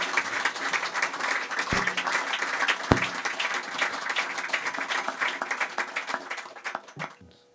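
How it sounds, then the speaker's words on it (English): An audience gives a round of applause to the Indian classical musician Pandit Yogesh Samsi at a music room event. Dense, lively clapping runs for several seconds with a couple of sharp knocks, then fades away near the end. "can we give Pandit Yogesh Samsi a huge round of applause once more"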